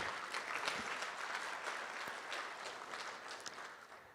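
Audience at the opening of the IX Ogólnopolska Konferencja Dydaktyki Akademickiej Ideatorium breaks into steady, fairly quiet applause, many hands clapping continuously in a hall.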